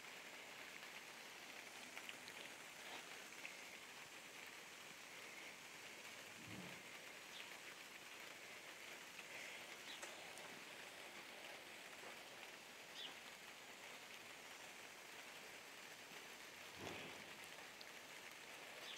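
Steady rain falling around a garden greenhouse on a cool day, a continuous soft hiss throughout, with a few faint, brief knocks and drips surfacing now and then.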